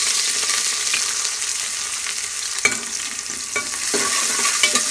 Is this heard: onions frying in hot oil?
yes